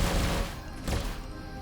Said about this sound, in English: My second group, fast chain guns.